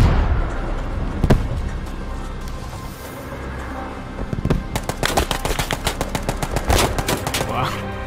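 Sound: gunfire in a D-Day tank video game

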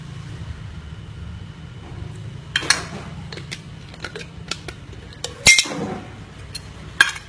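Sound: mixing pickled eggplant in a bowl

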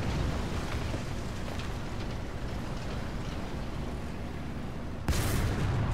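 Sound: teammate's tank gun firing in War Thunder (video game)

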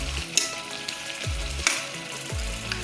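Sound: pork sizzling while being stir-fried

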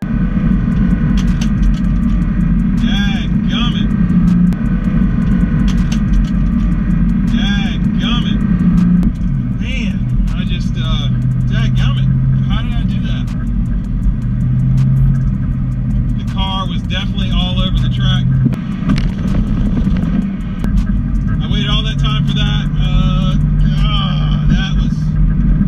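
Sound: Ford Fox Body Mustang drag car shaking after missed shift

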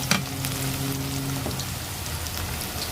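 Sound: onion frying in oil

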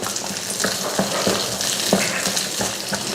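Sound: shallots, garlic and ginger sautéing in a pan

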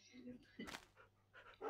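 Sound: dogs barking and whimpering in the Minecraft video game

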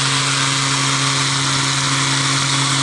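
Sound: Mirka Deros sander speeding up

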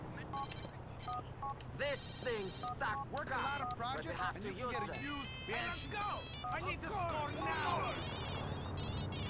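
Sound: phone ringtone in a video game

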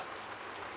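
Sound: rain falling in a cartoon

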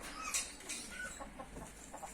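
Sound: broody hen clucking

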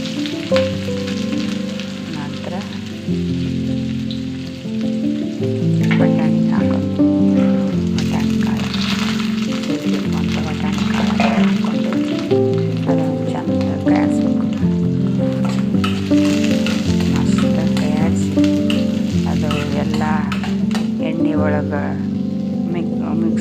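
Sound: mustard seeds and onions frying in pan

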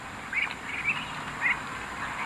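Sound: Muscovy ducks (entok jumbo)

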